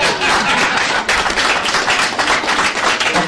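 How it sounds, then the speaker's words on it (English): Loud audience clapping fills the room in a dense, continuous burst of many hands at close range, steady and unbroken throughout with no voices on top. "Why is the clapping 10 times louder than his fucking voice?"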